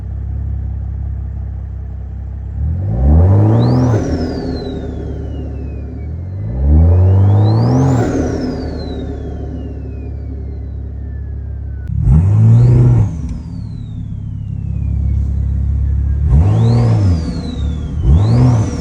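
Toyota Supra fitted with a T51R mod, revved repeatedly in second gear in manual mode: four loud, close engine rev bursts climbing sharply and falling back, with a rising whine on each, separated by steady idle, no talking.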